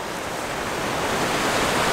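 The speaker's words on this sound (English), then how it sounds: "some waves breaking in the rocks in the foreground" Surf breaking on rocks along a lighthouse shoreline, a steady broadband wash that swells slightly louder toward the end, close and continuous with no voices.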